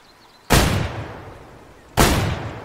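Two heavy shotgun blasts go off from a UTV in the hunting game Way of the Hunter, each a sharp booming report with a long decaying tail, about a second and a half apart.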